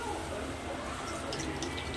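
Plain cold water poured over unsoaked rice in a pot, a short continuous gurgling pour with faint splashing over about two seconds.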